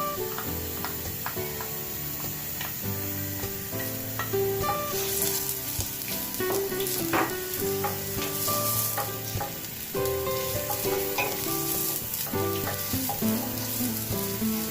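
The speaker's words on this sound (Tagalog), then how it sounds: "Gigisa muna natin siya." Chopped onion sautés in a hot pan for saffron rice, a constant crackling sizzle with intermittent scraping and stirring clatter from a utensil, close and alone with no speech.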